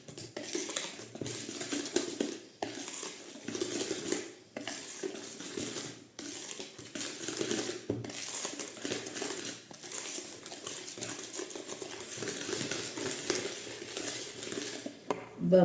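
Brownie cookie dough being stirred in a bowl, a steady scraping and clinking of a utensil against the bowl with rhythmic pauses, fairly quiet and close.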